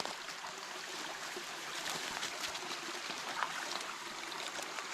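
A spring-fed creek flows past a rural property line with a steady, faint, wide hiss and trickle that does not let up. There is no speech.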